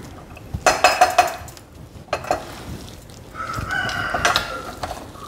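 A spoon stirs and mixes cooked venpongal in a pot, making a few close metallic scrapes and clinks in short clusters separated by quieter gaps. No one speaks.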